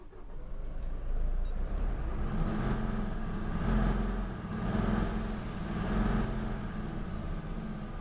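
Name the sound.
Scania E400 MMC bus engine starting and running, OMSI bus simulator video game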